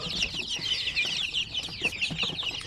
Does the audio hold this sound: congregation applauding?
no